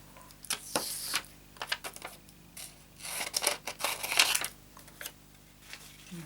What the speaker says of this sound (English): And now that needs to be fussy cut out